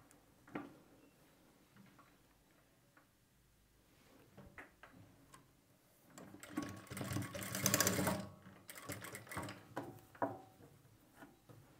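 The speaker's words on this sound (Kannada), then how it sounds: "ಫೋಲ್ಡಿಂಗ್ ಮಾಡಿ ಇದರ ಪಕ್ಕದಲ್ಲೇ ಹೊಲಿಗೆನ ಹಾಕಬೇಕು." A sewing machine stitches alongside folded fabric piping. Quiet taps and handling noises come first, then a loud, close burst of fast mechanical stitching, followed by shorter stop-start runs.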